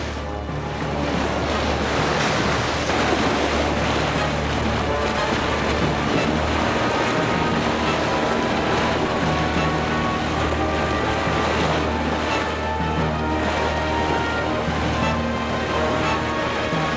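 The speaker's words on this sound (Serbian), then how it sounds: "žestoka oluja besnela je dve nedelje danju i noću" Stormy sea waves and howling wind, a cartoon sound effect for a ship caught in a raging storm, form a continuous dense roar of surf and gusts with no pauses or voices.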